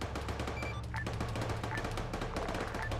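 Gunfire in the Arma 3 military game comes as rapid, steady automatic bursts, dense and continuous at moderate distance, with no talking over it.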